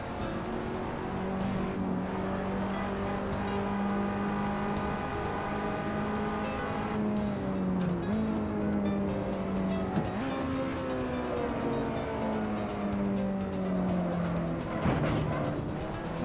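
Several race cars in a racing video game scream through a tunnel together, their overlapping engine whines rising and falling with echoing roar and the odd tire squeal, steady and continuous with no talk.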